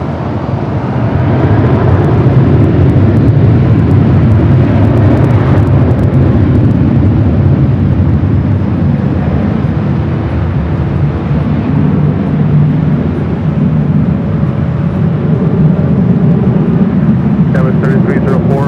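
A Sun Country 737-800 airliner roars during its takeoff run on runway 24 left at LAX, a loud sustained jet rumble throughout with radio chatter over it.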